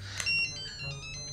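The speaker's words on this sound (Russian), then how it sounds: "О, кто это нам звонит?" A phone ringtone sounds for an incoming call in a Russian detective drama scene, a bright repeating electronic melody that plays briefly and fairly close.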